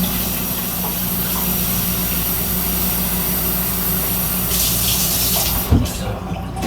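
Cold tap water runs steadily into a pot for salted potatoes in a home kitchen, a continuous hissing flow that holds nearly the whole time before a brief clunk near the end.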